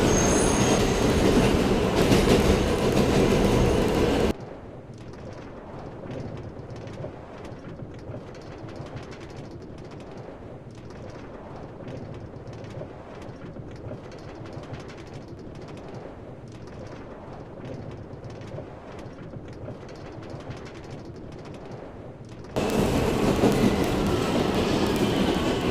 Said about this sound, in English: This is a train terminating at Westford.